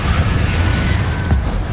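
A Confringo fire spell explodes in the Hogwarts Legacy video game during a fight against Inferi, a dense, sustained rumbling blast with a low booming body and a brief sharper burst near the end.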